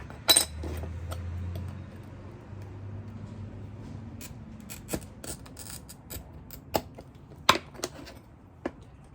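Glass pieces being cut and snapped for a water lily mosaic, with a sharp crack near the start followed by scattered light clicks and clinks of glass at a close, quiet level.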